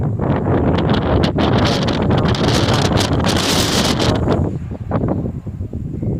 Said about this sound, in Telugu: చూసారా గాలి సౌండ్ ఎలా